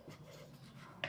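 Pen writing on paper, a soft close scratching stroke that runs steadily for about a second and ends in a brief sharper scrape, quiet with no talking.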